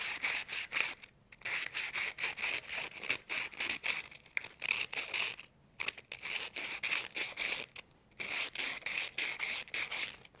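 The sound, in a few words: sanding with sandpaper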